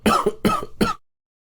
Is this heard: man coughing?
yes